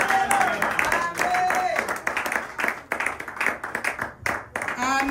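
A church congregation applauds with sustained, lively clapping that swells and dips, mixed with voices and cheering from the crowd.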